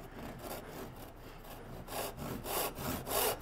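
A heavy custom hand saw with about 8 teeth per inch cuts a wood tenon in close, rhythmic back-and-forth strokes. The rasping bursts are loud and unaccompanied.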